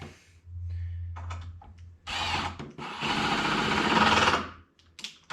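A cordless power drill driving a screw into window trim, several short whirring bursts separated by pauses, ending in a longer, louder run as the screw tightens, close by with no talking.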